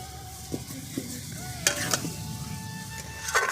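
Potatoes sautéed and stirred in a pan, a continuous close sizzle broken by a few spatula scrapes and taps, with no talking.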